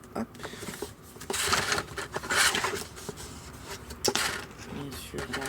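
Scissors snip and rustle through paper and card for a handmade Christmas photo album, with close, uneven bursts of crisp cutting and handling noise.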